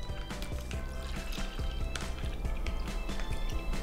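Cream and milk pour into a Ziploc bag with a close, steady liquid gurgle, broken by small dripping and squishing sounds.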